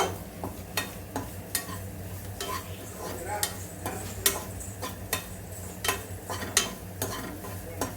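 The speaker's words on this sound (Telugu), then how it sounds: "ఆ కొబ్బరిని వచ్చేసి ఇలా ఆయిల్లో ఫ్రై చేసుకోవాలన్నమాట." Fresh coconut paste frying in oil in a pan, a soft continuous sizzle broken by sharp, regular clicks and scrapes of a spoon stirring against the vessel, close and moderately loud, with no voices.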